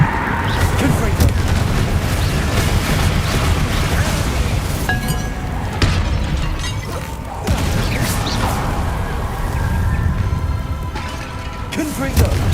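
Confringo spell blasts in Hogwarts Legacy boom and crackle amid loud, dense combat noise, with metallic clinks and rumbling impacts layered throughout a continuous chaotic battle.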